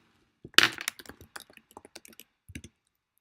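A computer mouse clicking while editing settings in a WordPress plugin: a quick cluster of crisp, close clicks and taps, one sharper snap near the start, then a few scattered clicks against near silence.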